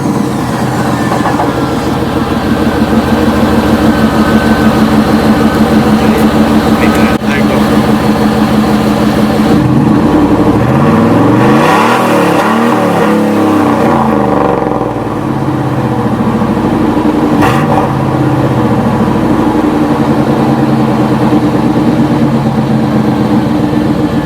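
OBS truck exhaust running a straight pipe into a Carven R series muffler, a loud, steady engine drone with rising and falling rev sweeps through the middle, close and continuous throughout.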